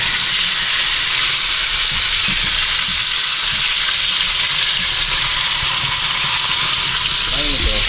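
Food frying in a pan on a stove, a loud, steady sizzling hiss that fills the whole stretch without letting up.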